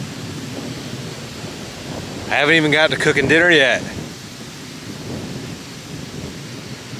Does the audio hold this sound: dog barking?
no